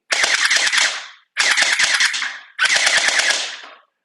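An ARONCLUB 1911-style gel ball blaster with blowback and an extended magazine battery fires three loud, rapid full-auto bursts of about a second each, with brief pauses between them and no talking.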